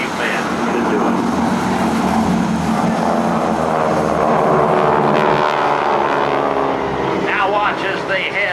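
GEICO Skytypers propeller aircraft fly in tight formation at an air force base open house, their engines droning loud and continuous overhead with a shifting pitch as the planes pass, under a narrator's voice.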